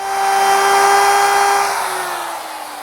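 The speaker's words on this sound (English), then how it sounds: "The chamfer is made using my chamfering bit" A router fitted with a chamfering bit whines loudly as it cuts along a wooden edge, a close, steady high-pitched tone that slowly drops as the cut finishes, with no talking.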